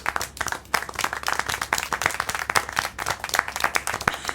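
Steady applause from a small group in the video game Syberia: The World Before, many hands clapping in a dense, continuous patter that rises and falls slightly, with no talking.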